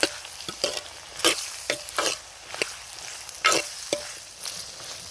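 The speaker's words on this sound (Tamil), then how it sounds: "இப்போது கத்திரிக்காவை போட்டுக்கலாம். வதக்கிக்கலாம்." Brinjal sautéed in a pan with oil and fennel seeds, close, sharp stirring strokes in uneven bursts over a light sizzle, no speech.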